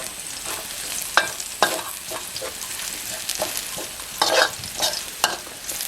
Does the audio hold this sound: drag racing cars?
no